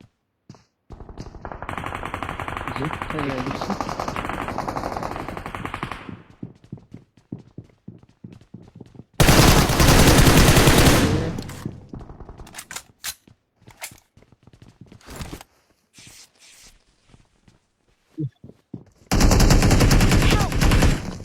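Gunfire from a battle royale video game, with two loud sustained bursts of automatic fire, rapid clicks, and scattered footstep-like taps between them.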